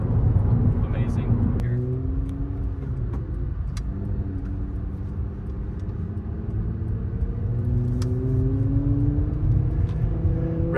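A J37 V6 swapped into a 2004 Acura TSX six-speed idles with a steady low rumble and gives a few rising revs, parked at a car show with crowd noise around it.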